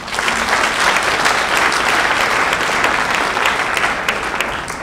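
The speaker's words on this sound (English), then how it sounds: "I ask you all to at least applaud for them." Audience applause at a benefit tribute event, dense and steady clapping from a large crowd sustained throughout at close, loud level.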